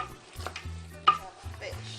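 A spoon stirs okra stew with spices and shrimp powder in a pot, giving a few close scraping strokes and a low, faint bubbling underneath, with no talk.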